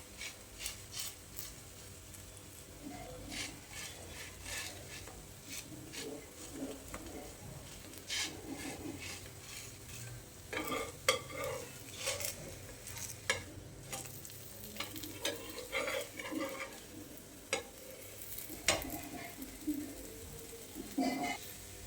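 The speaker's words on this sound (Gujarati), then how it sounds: "થોડી વાર એને કમ્પ્લીટ શેકાઈ જાય, નોર્મલ પ્રેસ કરતા જઈશું તેથી બધી સાઈડો પણ સરસ રીતે શેકાઈ જાય।" Farali chilla made from rajgira and moraiya flour cooking in a pan, with soft intermittent sizzling and scraping or pressing noises at low level and no talk.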